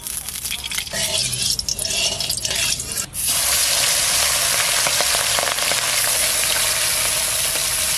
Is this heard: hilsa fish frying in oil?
yes